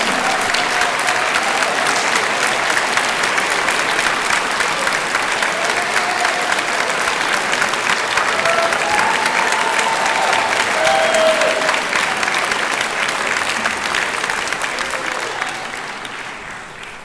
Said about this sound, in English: So please stand and give a round of applause.